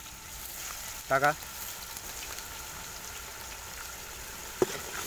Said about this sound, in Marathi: चांगलं हे ढवळून घ्या, जोपर्यंत तेल सुटत नाही तोपर्यंत ह्याला परतून घ्या